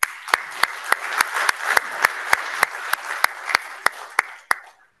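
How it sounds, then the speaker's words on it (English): A church congregation applauds children after an Advent Sunday worship production, a steady wash of clapping with sharp individual claps standing out, sustained for several seconds before stopping abruptly. "let's give them a big round of applause"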